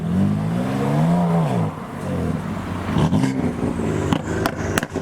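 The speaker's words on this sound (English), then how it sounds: "It sounds like the F80 is doing a second gear burnout at the top." A BMW M3 F80 at a car meet with speed bumps does a second gear burnout: a steady engine drone that rises and dips, then louder rough bursts and sharp pops toward the end.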